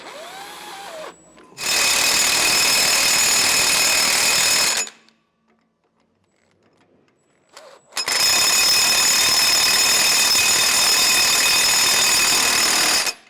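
Cordless power tool or impact driver snugging the mounting bolts of a Roadmaster Reflex steering stabilizer on a 2021 Winnebago motorhome, in two long loud bursts of whirring separated by a few seconds of near silence.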